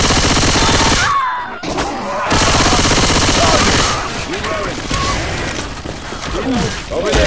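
Weapon reloading in the Left 4 Dead 2 video game, with metallic clicking mechanisms amid loud, continuous machine-gun fire and chaotic game noise.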